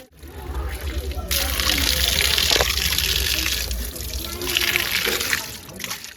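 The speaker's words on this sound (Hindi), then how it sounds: "इसके अलावा यहाँ एक प्राकृतिक जलधारा भी है" A natural spring stream at a temple site in Deoghar, India, flows steadily with a loud continuous gush and splash, close by and dominating the scene.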